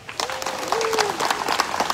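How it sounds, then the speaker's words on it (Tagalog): Crowd applause at the opening of a public plaza in Manila, clapping and cheering with a voice calling out over it, short and fairly close. "lakasan po ninyo ang palakpak sa ating mga kusyal, Kusyal Erwin Chen."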